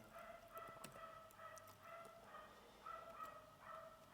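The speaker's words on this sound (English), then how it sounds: "there's a dog barking somewhere in this place" A dog barks far off in the distance, faint repeated barks spaced a second or so apart over a quiet indoor background.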